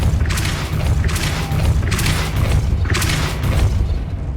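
The Depulso spell cast in Hogwarts Legacy gives repeated booming magical bursts, roughly one per second, loud and close, each a broad whooshing thump over a constant low rumble.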